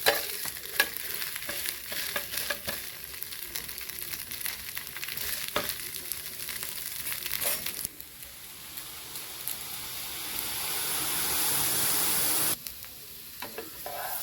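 Appam batter frying in ghee on a pan for a lunch box breakfast, a continuous close sizzle that shifts to a steadier hiss partway through, with faint scraping and no talk.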